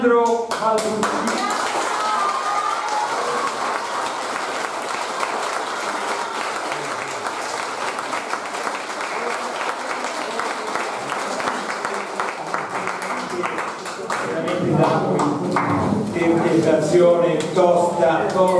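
Theatre audience at an amateur company's performance applauding in sustained, dense clapping that swells toward the end, where voices and music rise over it.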